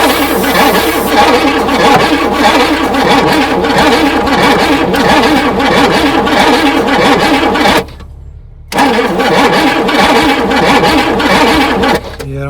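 A 1977 Pontiac Grand Prix engine cranks on its starter in a loud, rapid, rhythmic churn without catching, briefly stopping and then cranking again, close up.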